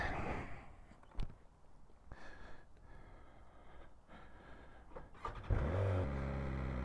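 A 2023 BMW S1000XR TE motorcycle idles with faint clicks and shuffling, then its engine catches and settles into a loud, steady close-up rumble as it prepares to ride off.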